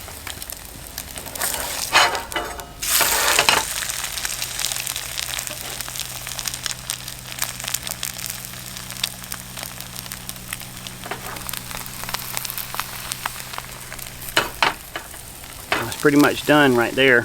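An egg fries in a little butter in a Pathfinder carbon steel skillet, crackling and sizzling steadily close by, with a few sharp spatula scrapes and someone talking briefly near the end.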